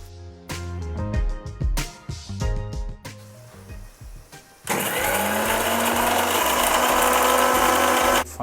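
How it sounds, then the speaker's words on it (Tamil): Mixer grinder grinding sautéed ingredients for mutton biryani into a paste, preceded by clattering knocks, then a loud steady whirring roar running to the end, with no talking. "இது எல்லாத்தையும் சேர்த்து மொத்தமாக பேஸ்ட் மாதிரி அரைச்சி எடுத்துக்கலாம்."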